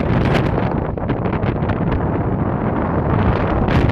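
A large vintage 1950s furnace blower driven by a Century repulsion induction motor pushes a strong, continuous rush of air, loud and close, buffeting the microphone like heavy wind.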